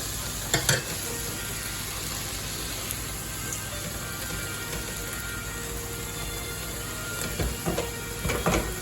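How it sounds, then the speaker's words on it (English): Red peppers and sweet corn cook in a hot pan for a vegetarian quiche, giving a steady close sizzle with soft stirring and a few louder clatters near the start and end. "You're going to add the peppers and the sweet corn now."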